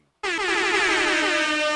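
A single loud air horn blast bursts in after a brief silence and holds steady, blaring and close, with nothing else beneath it.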